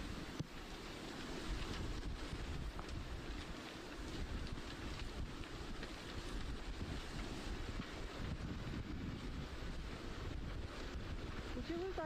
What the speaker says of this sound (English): listen into the picture every once in a while and get a sense of how windy it is